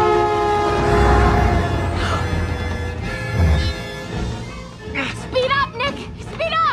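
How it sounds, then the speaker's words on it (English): A scene from the animated movie Zootopia shown outdoors in a park, with a train rumbling past and a long, loud, sustained horn, then shouting voices and sharp effects as the horn fades. "There's another train coming!"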